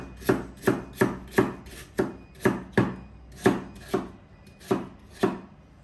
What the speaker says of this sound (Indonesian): jadi pertama kentangnya kita slice.